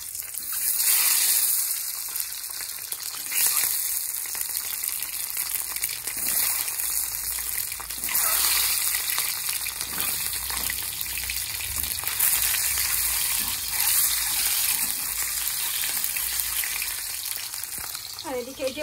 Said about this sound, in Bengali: এবার ডিমগুলো সব ভেজে নেব